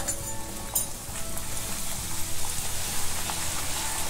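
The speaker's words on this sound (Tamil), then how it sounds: "இப்போ நம்ம இதை ஃப்ரை பண்ணிடலாம்" Taco shell dough frying in hot oil on the stove, a steady close sizzle and crackle of bubbling oil, continuous and fairly soft, with no talking.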